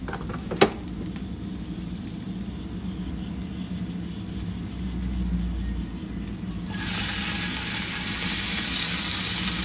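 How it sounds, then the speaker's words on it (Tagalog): A pork patty lands in a hot, oil-free pan. After several seconds of quiet low room rumble and a single sharp click, a loud, steady, close sizzle suddenly starts and keeps going to the end. "kapag mainit na, just put the pork here"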